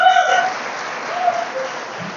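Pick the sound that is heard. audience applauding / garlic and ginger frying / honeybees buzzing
audience applauding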